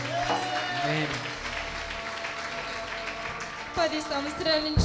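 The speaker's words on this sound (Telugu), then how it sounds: "గట్టిగా చప్పట్లు కొట్టు" An audience at a Christian church gathering claps for a few seconds under a voice and tonal music, with the applause swelling briefly near the end.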